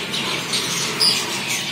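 Aviary birds squawk in a continuous close chorus of harsh calls, a few louder squawks standing out, with no talk over them.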